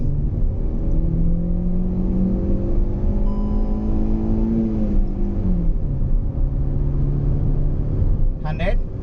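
A Hyundai i20 Sportz hatchback pulls away hard in a 0-100 acceleration run, engine note climbing steadily, dropping at a gear change, then rising again, heard from inside the cabin and loud throughout.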